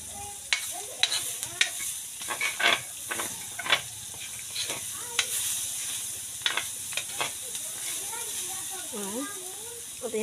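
Banana blossom (puso ng saging) sautéing in a pan, with soft sizzling and hiss under scattered stirring and scraping clicks, close and moderately quiet, with a voice briefly heard.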